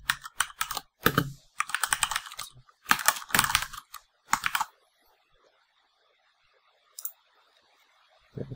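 Typing on a computer keyboard, several quick bursts of close, crisp key clicks in irregular runs, then a stretch of near silence with a lone faint click near the end.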